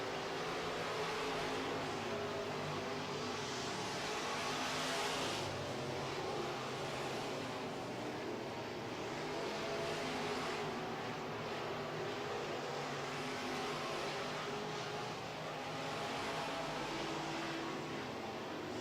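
Midwest modified race cars roaring around a dirt track in a heat race, a broad engine drone that swells and fades as the cars pass, heard from a distance with no talking.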